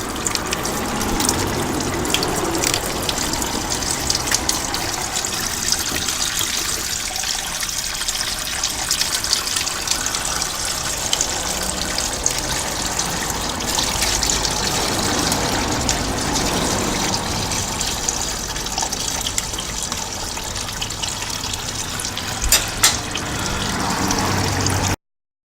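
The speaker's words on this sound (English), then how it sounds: "We just loosen these off and the oil will start to come out" Hot transmission fluid draining from the pan of a Ford BTR M74 four-speed automatic, a steady close trickle and pour of liquid running continuously without speech.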